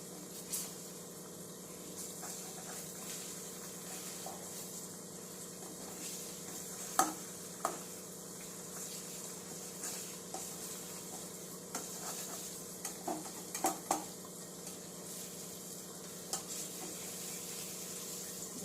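An egg omelette with a light sprinkle of chili powder fries quietly in a pan, giving a faint, steady sizzle with a few scattered clinks and scrapes from a spatula.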